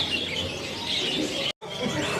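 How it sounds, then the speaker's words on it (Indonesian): Nil Tava birds chirp amid the crowded bustle of a busy bird market kiosk, with several overlapping high tweets over a steady murmur of background noise, cut by a brief dropout before the calls resume. "Di sini ada burung Nil Tava ya."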